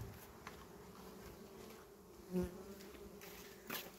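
Honey bees buzzing steadily in a low drone, close by and fairly quiet, with a few louder passes as individual bees fly near, while frames are moved during a late-season hive colony transfer.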